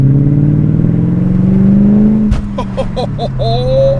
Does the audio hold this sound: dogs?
no